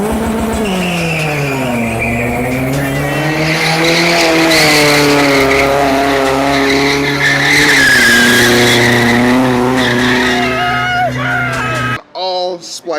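A Lexus GS300 with a freshly installed 2JZ engine is revved hard and long, loud and close, its pitch climbing and falling through repeated sweeps before cutting off abruptly near the end.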